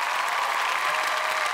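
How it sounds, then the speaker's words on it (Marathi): Applause welcomes a guest at a Marathi television serial event, a dense, even wash of many clapping hands, sustained and fairly loud with no talk over it. "आपण जोरदार टाळ्यांनी स्वागत करूयात"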